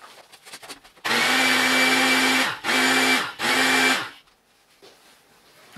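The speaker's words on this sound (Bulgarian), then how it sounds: "затваряме и набързо на блендера." A kitchen blender whirs loudly in three short bursts, cutting off briefly between each, then falls quiet, while mixing ingredients for kozunak, a sweet Bulgarian Easter bread.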